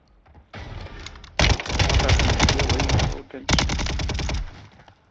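Rapid automatic gunfire bursts in Warzone 3 Plunder mode, two long, loud, close strings of crackling shots separated by a brief pause, with fainter fire leading in.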